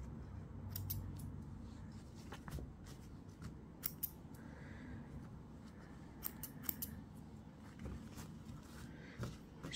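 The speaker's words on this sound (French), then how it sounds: "Je coupe les grands fils qui dépassent." Scissors snip long protruding threads in a quiet room, a series of sharp close clicks and cuts in irregular clusters over a faint, soft background.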